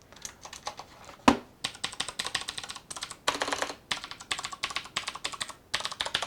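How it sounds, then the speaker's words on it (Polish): Typing on a Cooler Master MasterKeys Pro S mechanical keyboard with Cherry MX Blue switches, a quick irregular run of crisp clicky keystrokes with one sharper heavy key hit, close and fairly quiet, no speech. "Dość głośne, bo to niebieskie przełączniki, ale nie jakoś strasznie głośne"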